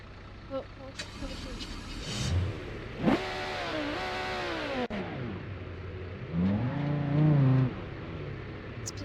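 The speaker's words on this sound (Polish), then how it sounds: "Odpalmy tego V6." A V6 car engine in a video game cranks and fires up, then revs with a rising, throaty tone, while someone talks over it.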